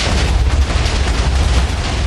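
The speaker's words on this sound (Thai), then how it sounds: "อะไรอ่ะ ยิงระเบิด" Explosions from a fired weapon in a modded Minecraft game, a dense, continuous low boom and rumble that stays loud throughout without a pause.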